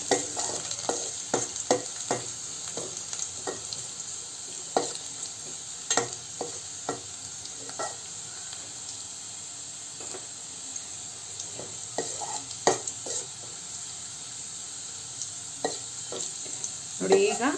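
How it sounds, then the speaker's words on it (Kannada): Chopped garlic fries in hot oil in a pan, giving a soft, continuous sizzle broken by frequent clinks and scrapes of a spoon stirring close by. "ಅದನ್ನು ಬೆಳ್ಳುಳ್ಳಿ ಸ್ವಲ್ಪ ಚೆನ್ನಾಗಿ ಫ್ರೈ ಆಗಲಿ."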